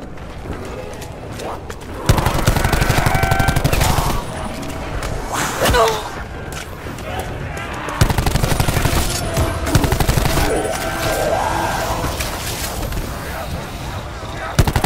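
Heavy automatic gunfire is aimed at tigers in the video game IX Zombies Survival, loud sustained bursts alternating with quieter stretches of game ambience, and a voice talks at times.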